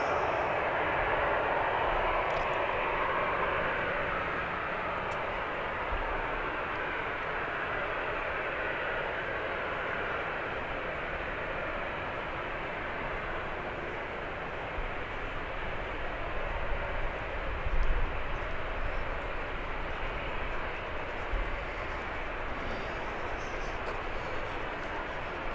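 Airbus A321neo airliner at Birmingham airport, a steady broadband engine roar holding loud and even throughout, with occasional louder swells.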